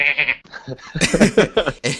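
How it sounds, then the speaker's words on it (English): A sheep, a pet in a role-playing game session, bleats in a short series of nasal, wavering calls, close and loud, with a voice joining in toward the end. "You're a good sheep."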